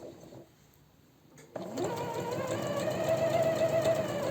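After a soft quiet stretch, a sewing machine starts up and runs steadily, stitching along the facing edge of a silk blouse with a close, even whir.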